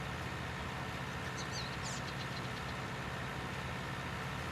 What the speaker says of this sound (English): he's certainly the little tractor that could today